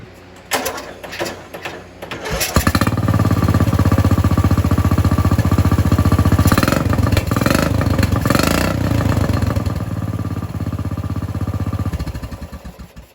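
A small engine, freshly fitted with a new fuel line and filter, cranks a few times, catches and runs with a steady, rapid, close, loud chugging before winding down at the end.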